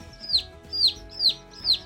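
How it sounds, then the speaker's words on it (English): Newly hatched baby chicks on a farm, huddling under a heat source, peep and chirp in four short, evenly spaced calls, clear and close with no talk. "if they continue to chirp and peep"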